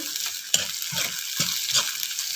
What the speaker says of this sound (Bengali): তাকে পেঁয়াজ রসুনের সাথে ভালো করে ভেজে নিব সুন্দর একটা ফ্লেভার আসা পর্যন্ত